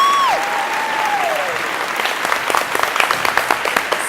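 A studio crowd at a Bronx community TV interview breaks into applause, the claps growing sharper and more distinct toward the end, with a brief rising vocal whoop at the very start.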